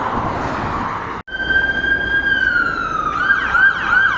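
A loud police car siren wails close by in Canada after a brief cut, its pitch sliding and then warbling as the car moves past.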